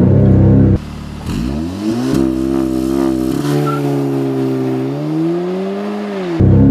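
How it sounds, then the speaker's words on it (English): A 2015 Audi S3 engine with traction control off revs for a launch, jumping from idle to a held, steady high drone that wavers slightly before dropping back, no talk. "Accelerate and brake at the same time."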